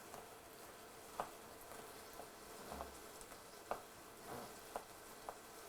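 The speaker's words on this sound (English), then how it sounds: "Stir the onion a bit, just until that's started to cook." Chopped onion sizzling quietly in a pan while being stirred for a tomato sauce, with soft frying hiss and a few light scraping clicks of the spoon, fairly faint with no talking.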